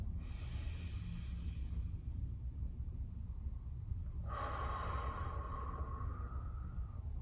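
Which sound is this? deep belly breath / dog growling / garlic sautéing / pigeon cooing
deep belly breath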